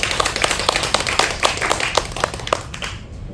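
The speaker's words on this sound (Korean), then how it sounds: "여러분 박수 쳐주세요." An audience claps at a poetry recital concert, scattered individual hand claps in an uneven rhythm, fairly close, fading out at the end.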